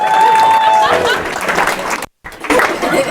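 A comedy-club crowd bursts into loud applause with some cheering for a stand-up comedian, a dense wall of clapping, close and sustained, briefly cut to silence before resuming.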